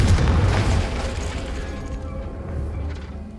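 Confringo spell explosion in Hogwarts Legacy, a loud, deep boom with heavy low rumble at the start that slowly decays into a lingering roar.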